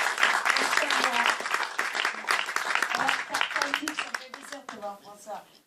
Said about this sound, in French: applaudissez mon ami ingénieur du son